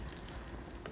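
A Korean vegetable pancake frying in plenty of oil in a pan, giving a dense, steady sizzle and crackle heard up close with no one speaking.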